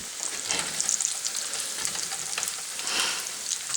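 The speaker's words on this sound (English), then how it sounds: "Let me get something to stir it around just a tad" Bacon grease sizzles and crackles steadily in a skillet as it is stirred, with a continuous close-up hiss and scattered pops and no talking.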